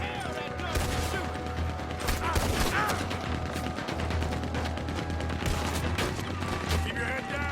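A Gatling gun in Red Dead Redemption 2 fires long rapid bursts of gunfire, loud and close, mixed with other shots, game sounds and shouted voices.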